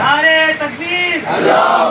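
A crowd at a Safar majlis gathering roars back a religious slogan in unison, a loud, close, sustained chant of massed voices rising and falling over two swells.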